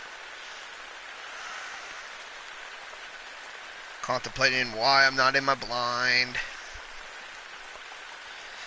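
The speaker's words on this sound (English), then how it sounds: "having rain pelt down on my face" Steady rain patters down in a Hunter COTW goose hunting game scene, a soft continuous wash that stays in the background while someone talks over it partway through.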